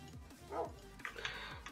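Dogs barking in Minecraft: a few faint, scattered yips and barks over quiet game background, with a sharp click at the end.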